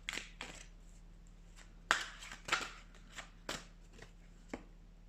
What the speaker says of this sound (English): Let's shuffle some.